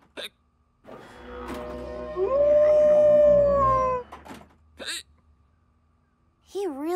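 A cartoon dog lets out a long, wavering howl that rises and bends in pitch, close and loud, with brief voice-like yelps before and after.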